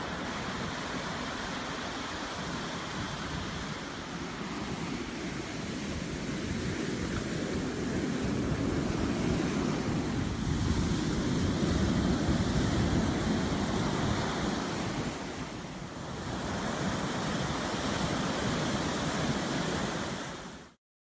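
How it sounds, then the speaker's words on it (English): Ocean waves crash on the shore in a continuous loud roar that swells and eases over about twenty seconds, with wind buffeting the microphone and no voices. "when the waves are crashing against"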